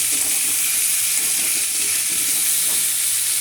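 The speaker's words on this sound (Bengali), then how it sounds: "দেখুন আমি সুন্দর করে কষিয়ে নিয়েছি, বা নিচ্ছি কষানোটা।" Spiced fish-roe masala, salted and meant to be cooked with pumpkin, is sautéed in a pan. A dense, steady frying hiss runs unbroken throughout, close and fairly loud, with faint stirring underneath and no voices.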